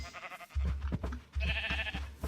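Minecraft sheep bleating in a few short, wavering cries with brief pauses, close and fairly loud, no talking.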